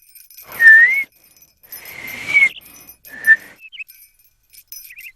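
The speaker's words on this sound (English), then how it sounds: "maybe I'm good at whistling too" A cartoon character attempts to whistle, producing three short, wobbly, breathy whistle tones separated by pauses, with faint high twittery chirps and a quiet background.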